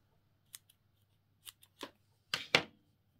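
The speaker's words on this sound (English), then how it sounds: "Maybe I can cut a little bit more off." Scissors cutting material in a handful of quick, quiet snips, with one pair of close, sharper cuts at the end and short gaps of near silence between them.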